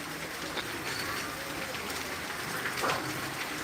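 Heavy rain falls outside in Tangail, a continuous dense wash of noise heard from indoors, steady throughout without breaks.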